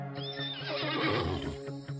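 A horse, presented as a winged pony, neighs in one loud, wavering whinny of about two seconds, close and with nothing else heard over it.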